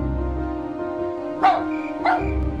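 A dog barks twice, short sharp yaps about half a second apart, close and fairly loud over a steady background hum with no talking.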